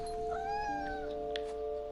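A cat character meows in a video game, a drawn-out, clear meow rising and falling over a steady tonal game soundtrack, with a faint brief chirp near the end.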